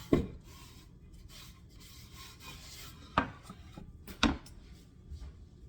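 Knife chopping onion centers on a board, a few sharp, separate thuds spaced irregularly over soft scraping and rubbing, close and moderately quiet.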